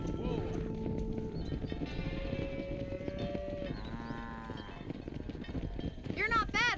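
Cattle and horses moving together in a herd in Red Dead Redemption 2, with hooves and animal calls mixed under game music and a voice talking throughout.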